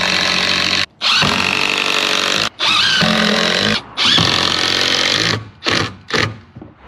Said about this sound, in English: I'm going to drill a couple holes and throw some screws in it.